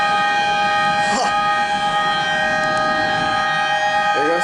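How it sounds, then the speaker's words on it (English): Civil defense sirens sounding from a church as a thunderstorm approaches, a steady multi-tone wail held loud and continuous throughout, with a brief louder whoosh partway and another near the end. "There goes the church sirens."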